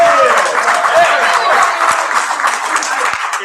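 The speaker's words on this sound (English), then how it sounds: "Is this the first time you've ever gotten applause?" Applause fills a programming meeting room: dense, steady clapping from a gathered group, holding at a fairly even level throughout, with some voices mixed in.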